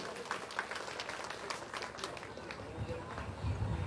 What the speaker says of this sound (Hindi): एक जोरदार तालियों से सर का स्वागत कीजिए।